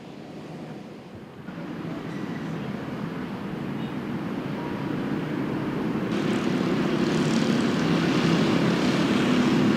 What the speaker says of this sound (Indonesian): jet F-35C Korps Marinir melaju kencang di dek penerbangan sebelum melesat ke langit di atas Laut Arab